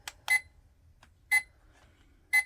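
A bright electronic alarm from a Goloza digital alarm clock beeps in short bursts, about once a second, loud and clear against quiet background hum.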